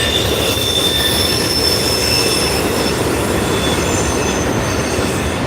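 A Norfolk Southern freight train hauling tank cars rolls past at a crossing, loud and close, a steady heavy rumble of wheels on rail with high metallic squeals running throughout.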